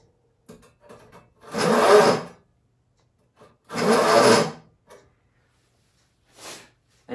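Three long rasping crosscut saw strokes cut through wood, the first two strong and sustained, the last shorter, with small scrapes between them.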